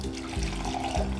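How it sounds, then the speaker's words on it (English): Lemon ginger detox tea being poured through a strainer into a cup, a steady close splashing trickle of liquid throughout. "we're gonna strain all of this. We're gonna pour it all into our cup."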